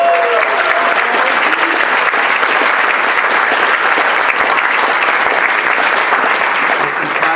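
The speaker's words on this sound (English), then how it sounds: "giving us a round of applause to Carl and Barris and Jack Berry, who filmed 120 plus lectures" A room full of people at an honors college scholar celebration claps steadily and loudly in a dense, continuous round of applause that holds for the whole stretch.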